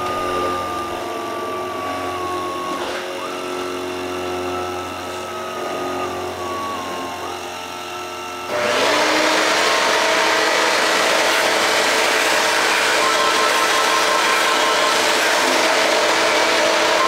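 A CNC machine driven by THB7128 stepper drivers runs a cutting pass: a steady mechanical whir with whining stepper tones that jumps sharply louder and busier about halfway through, then holds a dense, continuous grind to the end.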